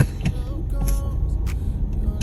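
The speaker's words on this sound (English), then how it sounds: "Oh my god, there's traffic." Road traffic in Jamaica: a continuous low rumble of passing cars and motor vehicles with a few sharper swells, heard close by and without talk.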